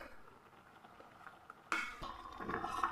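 Semolina mix stirred into boiling water in a pot, quiet bubbling then a sudden clatter of a spoon against the pot followed by scraping and clinking, close and alone.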